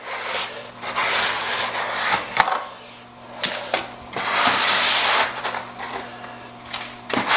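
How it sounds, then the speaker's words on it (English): A steel trowel scrapes and cuts the edge of a mortar bed in a tile shower, giving a steady gritty rasping with short pauses and a few sharp clicks, close and fairly loud, with no talk. "I just come back here with my trowel and kind of cut that little edge off right there, make that nice and clean"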